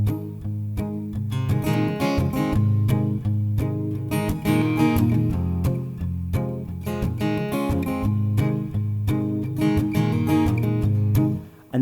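An acoustic guitar plays the intro of a song, a steady fingerpicked pattern of clear plucked notes and chords ringing close and alone for about twelve seconds.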